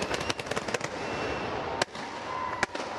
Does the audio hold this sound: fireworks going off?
yes